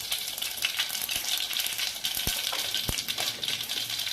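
Mustard seeds and cumin sizzling in hot oil for a dal tempering, with a steady bright hiss and a few sharp pops and crackles as the seeds burst.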